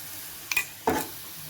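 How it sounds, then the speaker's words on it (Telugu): Chili powder frying with onions in a pan, heard as two short bursts of sizzling and stirring, close and moderately loud, over a quiet background. "ఒక 2 నిమిషాలు ఫ్రై చేసుకోవాలి కారం పొడి ఉల్లిపాయలతో పాటు."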